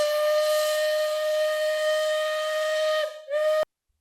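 A train's steam whistle blows one long, loud, steady tone that wavers briefly near the end and then cuts off sharply into silence.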